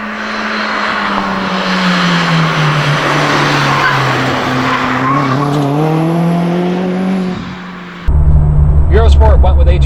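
A 2001 VW Golf 1.8T race car drives loud and close, its engine note rising and falling with gear changes and tire squeal, then a sharp cut to a brief, harsher revving burst.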